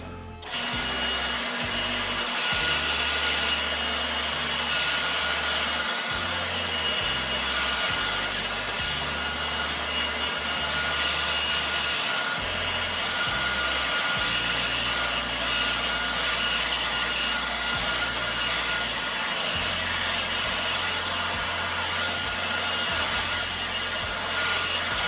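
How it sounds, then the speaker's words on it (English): A steady, loud hair dryer on its hot setting roars continuously with a broad hissing rush while drying a drywall patch, running without pause from start to finish. "we're going to use a hair dryer on hot."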